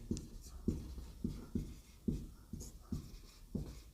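Chalk or a marker taps and scrapes across a classroom board in short, regular strokes while a teacher writes during a physics lesson on refraction of light. The sound is close and fairly quiet and comes with no speech.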